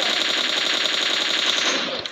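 Rapid SKS rifle fire in PUBG Mobile Lite, a fast, even string of close, loud shots that rattles continuously before tapering off at the end.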